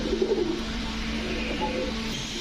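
Pigeons coo at a bird sale, a soft low burbling call early on that fades into a steady background hum of the surroundings.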